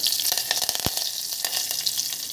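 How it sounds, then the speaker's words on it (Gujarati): Cumin seeds tempering in hot oil for a Gujarati potato and peanut khichdi, a steady loud sizzle with crackling pops and one sharp spatter midway, no voices. "ઓહો, જીરાથી વઘાર કર્યો છે ભાઈ."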